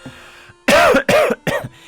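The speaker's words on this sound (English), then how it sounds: "if I can stop coughing" Three loud, harsh coughs break out one after another following a quiet moment, each a short rough burst close to the microphone.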